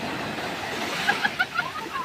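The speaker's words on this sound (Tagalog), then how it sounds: "Malakas lang yung alon guys, pero hindi siya malalim" Strong surf rushes and breaks on Victorias beach in a continuous wash of noise, with a few faint high voices or calls poking through.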